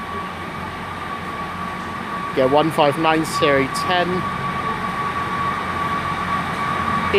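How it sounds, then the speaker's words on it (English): South West Trains unit 159010 stands at Exeter St Davids with its engine running, a loud, steady hum and drone carrying through the station while someone talks briefly over it. "it's starting its duty now because it's starting here, the 1725 service by South West Trains."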